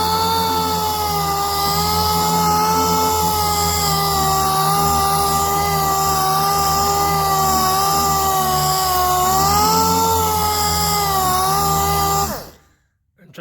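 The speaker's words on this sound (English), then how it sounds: "If you decide you want to use the DA, the orbital sander, make sure do not press it." A dual-action orbital sander runs steadily on a car hood while hail damage is being repaired, a loud continuous whine with an even pitch that wavers slightly before cutting off abruptly near the end.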